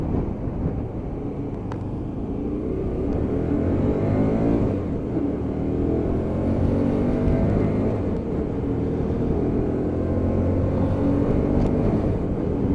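A Hyosung GT125R motorcycle rides on in traffic, shifting up through its gears into fifth, the small engine's steady drone and rushing wind noise close and continuous throughout.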